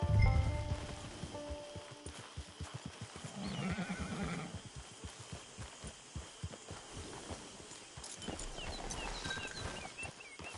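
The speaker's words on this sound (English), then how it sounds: "It's your horse." A horse in the Red Dead Redemption 2 video game gives a loud whinny near the start, followed by soft snorts and a steady clip-clop of hooves that continues close by.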